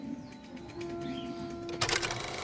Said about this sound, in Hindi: 201 जोड़ा कबूतर मतलब रोज़ सुबह शाम 201 बार गुटर गुटर की आवाज़